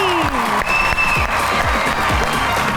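Clapping rises from the audience at a shayari stage show as the poet Achchhu Allahabadi is welcomed, a dense wash of hands mixed with tonal music and low thumps.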